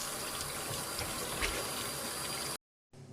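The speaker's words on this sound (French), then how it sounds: "je vais venir rincer mon poisson pour pouvoir après l'assaisonner" A dorade rinsed under a running kitchen tap, a steady close hiss and splatter of water that cuts off abruptly, then briefly resumes.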